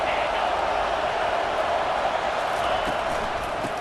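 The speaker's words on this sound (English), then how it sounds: "This offense trying to quieten the crowd on 1st and goal, and they are not cooperating." Stadium crowd noise in the College Football 25 video game, at an LSU at Florida matchup, forms a steady, loud roar that holds without letting up, as the crowd stays noisy on first and goal.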